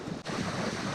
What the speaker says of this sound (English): Holy cow, these are some big waves.